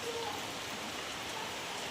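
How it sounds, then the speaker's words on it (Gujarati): A dense, steady patter of heavy rain fills the short stretch, with faint voices barely audible beneath it. "આજે તો વરસાદ પણ જોરદાર પડે છે"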